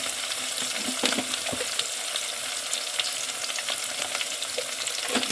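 Spices such as turmeric sizzle in a little oil for bitter gourd gravy, an even crackling fry close by with occasional stirring scrapes and no one speaking.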